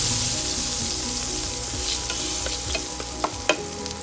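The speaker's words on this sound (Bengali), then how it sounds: "ভাজার তেলেই দিয়ে দেবো দুটো শুকনো লঙ্কা আর একটু পাঁচফোড়ন।" Dry red chillies and panch phoron sizzling in hot frying oil, a steady bright crackle stirred with a spatula, with a few sharp scrapes and pops near the end; no talking.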